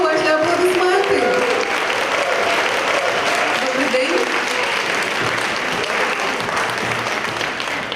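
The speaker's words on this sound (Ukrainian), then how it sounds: "Під оплески публіка зустрічає на сцені винуватець подій дії." An audience at a public conversation in Lviv applauds to greet a guest walking onstage, a dense, loud wash of clapping that holds steady throughout while a voice speaks over the start.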